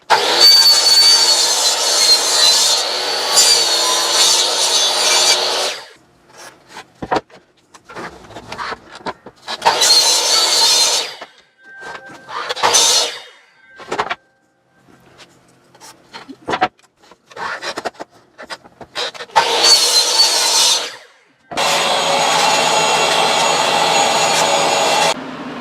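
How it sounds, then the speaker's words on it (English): A chop saw slices through pieces of MDF in a workshop, giving several loud, close bursts of harsh cutting noise separated by quieter pauses and shorter spurts as the blade winds up and down. "I've just cut some bits of MDF on my chop saw without a mask."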